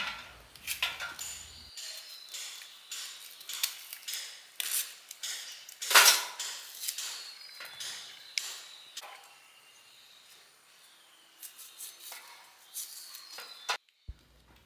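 Repeated sharp knife taps on a board as jackfruit bulbs are chopped, quick irregular strokes close by with short pauses between bursts.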